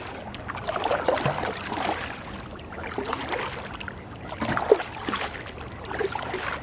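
Rhythmic swishes of a canoe paddle pulling through the Ochlockonee River, strokes repeating about every second and a half, close by with a soft watery wash between them.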